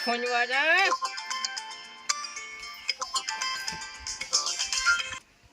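A mobile phone ringtone plays loudly and close, a bright melodic electronic tune with rising notes that continues for several seconds before cutting off abruptly.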